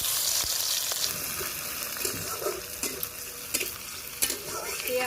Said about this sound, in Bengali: তেলের ভিতরে দিয়ে দেব পেঁয়াজ কুচি